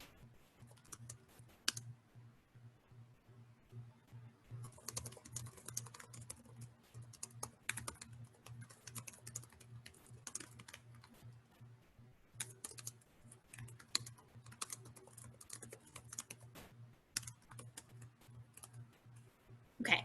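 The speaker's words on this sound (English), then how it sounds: "So I'm just going to type this out while you guys are looking." Someone types steadily on a computer keyboard in a quiet room, with bursts of rapid clicking keystrokes separated by brief pauses, faint and close, over a low hum.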